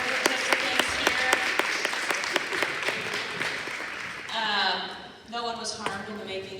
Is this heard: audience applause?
yes